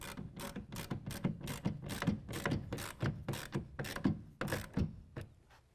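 A 1/2-inch ratchet tightens the clamp bolt on a tonneau cover for a truck bed, giving about fifteen crisp, evenly paced clicks, close and clear, slowing slightly at the end.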